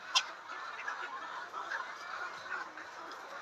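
Laying hens on a poultry farm with a three-thousand-bird batch, soft scattered clucks and murmurs from the flock, fairly faint and distant over a steady hum.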